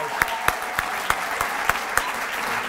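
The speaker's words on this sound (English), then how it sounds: "could we please give her a round of applause?" Audience applause at a chamber of commerce awards gala, a steady wash of clapping from a crowd with a few louder individual claps standing out at a regular beat.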